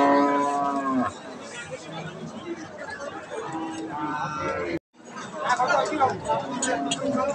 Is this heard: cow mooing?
yes